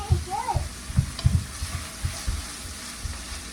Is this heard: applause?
no